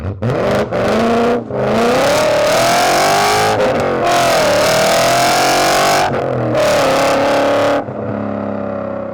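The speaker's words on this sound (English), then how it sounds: "here's the M5 with absolutely no silencers" A BMW M5 V10's loud, raw exhaust with no silencers roars continuously, its pitch rising and dipping with revs, with brief gaps between blasts before settling to a rumbling idle.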